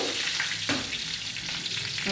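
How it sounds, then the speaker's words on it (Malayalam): Chilli and onion hit hot oil in which mustard seeds have popped for an ayala (mackerel) curry, giving a loud, dense sizzle with brief stirring scrapes close up. "ഇനി നമ്മളതിലേക്ക് മുളകും ഉള്ളിയും ഇട്ടു"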